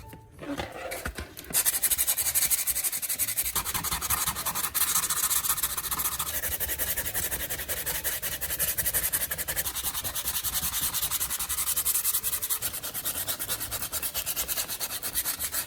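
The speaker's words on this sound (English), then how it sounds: "start sanding with 120 grit sandpaper" Steady, rapid rasping strokes of 120-grit sandpaper rubbing a plastic surface, close and continuous with an even rhythm and no talking.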